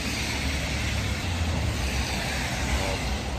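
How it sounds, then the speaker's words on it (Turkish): Cars and minibuses passing along a snowy town street in Afyonkarahisar, a steady continuous traffic rumble that stays fairly loud throughout, with no clear individual pass-bys standing out. "Burada dolmuşlar da geçiyor, arabalar da geçiyor."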